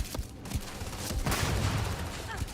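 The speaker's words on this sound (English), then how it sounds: "Why are they shooting me?" Gunfire from soldiers in the space game Starfield, a dense crackling burst of shots layered over a low rumble, steady and fairly loud through most of the span with no voice.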